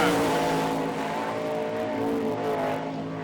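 Sprint cars race through the turns on a dirt oval at an All Star Circuit of Champions event in Hartford, Ohio, producing a loud, steady, high-revving engine roar that fades slightly, with an announcer talking over it.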